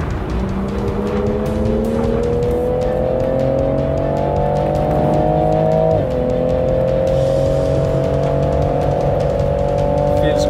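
A Toyota GR Supra at high speed on a race track gives a loud, steady engine drone whose pitch climbs gradually, with a brief shift dip midway, heard from inside the car.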